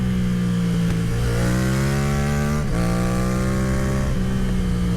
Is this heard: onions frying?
no